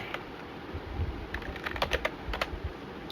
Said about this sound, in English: Let's just type one thing.